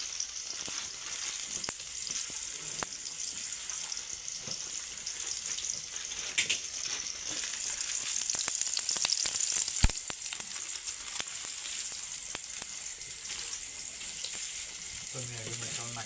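Chilies and tomatoes sizzle steadily in a hot pan while Maggi is being cooked, a bright continuous frying hiss with occasional stirring clatter, close and fairly loud, with a voice speaking now and then over it.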